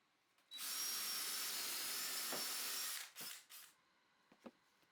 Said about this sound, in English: then clamp them in place before drilling 1/2 inch dowels through them